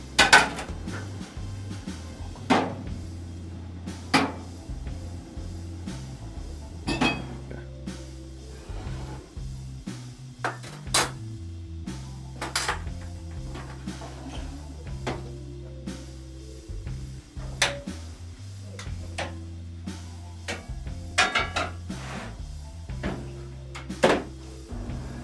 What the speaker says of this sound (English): now you still have to finish it up and put the dishes away